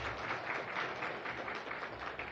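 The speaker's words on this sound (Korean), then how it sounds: "우리 한번 박수로 한번 더 격려해요" Applause from a church congregation welcoming a newly married couple, a steady, even wash of many hands clapping throughout, moderately loud with no pauses.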